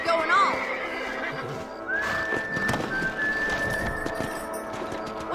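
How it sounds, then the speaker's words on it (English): Horses neigh and whinny in the Red Dead Redemption western game, a shrill whinny up front followed by a long high tone, with hooves clip-clopping and other game sounds beneath. "Let's get back on the horses and see what else is going on."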